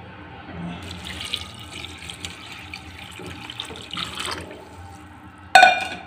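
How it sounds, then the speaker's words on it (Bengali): Water pours steadily into mashed black gram lentils in a pot, about six cups for half a cup of dal. A continuous close splashing builds, ending in a brief louder splash. "এখন এর মধ্যে আমি পানি দেব।"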